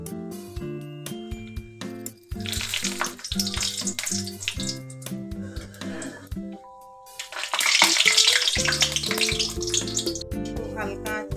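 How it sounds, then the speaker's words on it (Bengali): Cauliflower kachori deep frying in hot oil in a kadai over lowered heat: loud bursts of bubbling, crackling sizzle that rise and fade, with music playing underneath. "তেল আমার গরম হয়ে গেছে। এবার আমি আঁচটা একটু কমিয়ে দিয়েছি। এবার এক একটা ভেজে নেব।"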